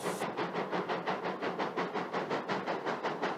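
A steam train underway chuffs in a rapid, even rhythm, each exhaust puff a hissy burst repeating about four to five times per second, loud and close with a constant background rumble.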